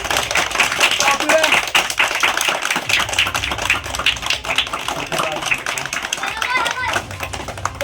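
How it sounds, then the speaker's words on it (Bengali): A group of children clapping at a free summer coaching class in Khowai, a burst of quick, uneven claps mixed with voices and chatter all through. "বাচ্চারা একটা হাত তালি দাও সবাই।"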